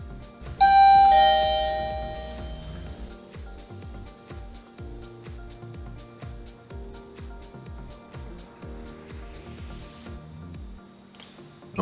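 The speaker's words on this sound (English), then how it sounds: "Now we'll show you the doorbell, how it sounds." A door access control system's doorbell rings with a loud electronic chime that plays a repeating melodic tune for about ten seconds, with no one speaking.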